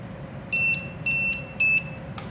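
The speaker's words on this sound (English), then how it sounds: "I will now test the functionality of the buzzers." Three electronic buzzer beeps from 5-volt buzzers on a digital logic project, each a steady high-pitched tone about a quarter second long, evenly spaced over a low background hum.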